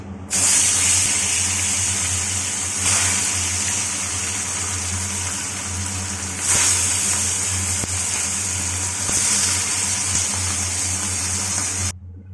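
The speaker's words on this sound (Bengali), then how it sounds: "এখানে তেল গরম হয়ে গেছে, মাছগুলো ভেজে নিচ্ছি" Bata fish frying in hot oil with a steady, loud sizzling hiss that swells and eases in a few waves over a low background hum, no talking.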